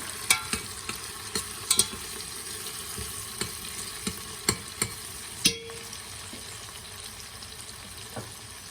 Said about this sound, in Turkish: Şöyle salçamın da kokusu çıkıncaya kadar bir iki kavuracağım